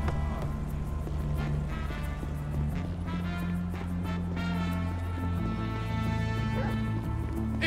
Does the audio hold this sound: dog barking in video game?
yes